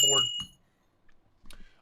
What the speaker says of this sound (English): Tinkly bells, baby.